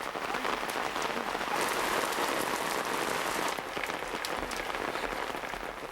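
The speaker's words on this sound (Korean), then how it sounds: "춘자씨의 체격이 워낙 크다 보니 우산 하나로는 비를 피할 수가 없었다." Heavy rain shower pours down steadily, a dense, loud hiss of drops striking surfaces continuously throughout, with no voices.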